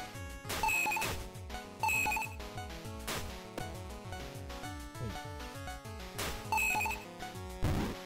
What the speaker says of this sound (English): it's the timer sound